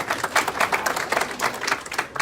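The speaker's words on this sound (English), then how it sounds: "I think we can manage a little clap" A small audience at an awards event breaks into brief applause, a dense patter of many hands clapping at moderate volume for a couple of seconds.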